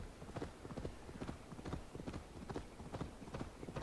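Horse hooves clop along at a steady trotting rhythm in Assassin's Creed Valhalla, fairly quiet, with a muffled background wash.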